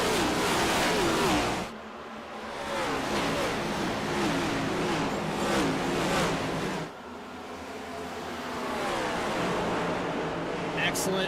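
Stock cars at Bristol roar off the green flag in a sim racing game, a dense loud engine drone with rising revving sweeps. An announcer talks over it throughout.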